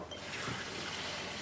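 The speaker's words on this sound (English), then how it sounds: "A little cold water in here." Cold water pours steadily into a container to mix a thickener for creamy clam chowder, a quiet continuous splashing trickle heard alone at low level.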